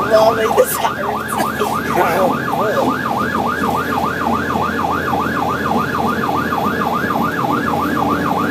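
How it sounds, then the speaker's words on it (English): Bakersfield Truck 1, a fire truck responding to a brush fire, sounds a loud wailing siren in a steady, rapid up-and-down cycle that continues unbroken over a low engine rumble. "Oh, make the sirens."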